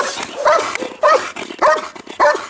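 A dog barks four times in an even rhythm, each bark loud and close, with short whimpery yips between them during an obedience training session.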